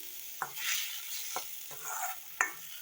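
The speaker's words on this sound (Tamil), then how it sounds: "பைனாப்பிள் குட்டி குட்டியாக கட் பண்ணது எல்லாத்தையுமே இதோடு சேர்த்து வதக்கிக்கலாம்" Chopped pineapple pieces being sautéed in a pan for pineapple rasam, with a faint steady sizzle broken by a few sharp scrapes of a spoon against the pan, close and fairly quiet.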